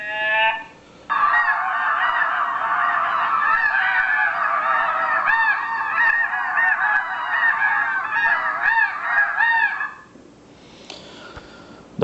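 Goose calls played through a FoxPro Wildfire electronic game caller, a dense flock of overlapping honks lasting about nine seconds, loud and close, then cutting off abruptly.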